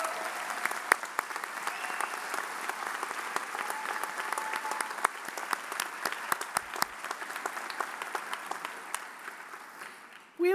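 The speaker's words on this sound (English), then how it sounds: "Please join me in applause for the faculty contributions." A commencement audience applauds the faculty at a school of public health graduation ceremony, a broad steady clapping from a large crowd in a big hall with scattered sharper claps, sustained for about ten seconds before cutting off.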